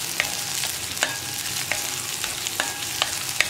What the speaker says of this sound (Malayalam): അപ്പോൾ ഇതിങ്ങനെ ഇളക്കി കൊടുത്തുകൊണ്ടിരിക്കുക